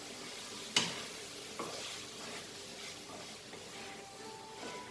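Kadai chicken frying in a pan is stirred, giving a soft, steady sizzle with a sharp clack of the utensil early on and a few quieter scrapes after.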